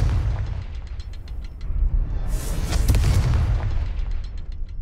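A Confringo fire-blast spell goes off in Hogwarts Legacy, a deep rumbling boom that swells into a bright crackling burst midway before fading, close and loud.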